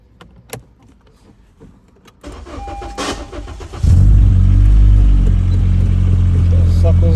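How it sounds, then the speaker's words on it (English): A turbocharged Honda Civic fitted with straight-cut gears cranks briefly on the starter, then catches and settles into a loud, steady, rumbling idle at close range. "so trying to start the car"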